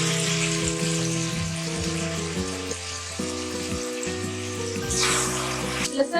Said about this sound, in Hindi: अब मैं लहसुन ऐड करने लगी